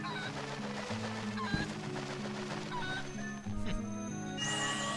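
Golden cuckoo from Zelda: Twilight Princess, a game chicken, honks and clucks in short bursts over steady game music, fairly loud and close, with a few squawks spread across the stretch.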